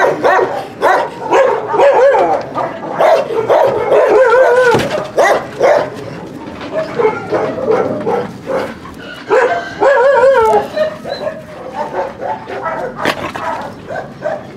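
A husky barks, yips and whimpers excitedly outdoors, loud and close, in bursts mixed with eager whining while a person calls out and talks nearby.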